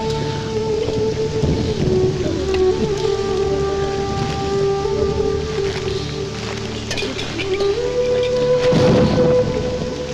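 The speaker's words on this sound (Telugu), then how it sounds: "ఇప్పుడు అర్ధంతరగా ఈ వర్షం పట్టుకుంది" A steady downpour with rumbling thunder during a storm, rain leaking into a house. Heavy, continuous rain noise fills the whole stretch, with thunder swelling louder near the end and no talking.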